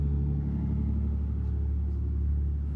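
Vehicles run along an outdoor dirt trail, a steady, loud low engine rumble with no pause, lasting the whole stretch.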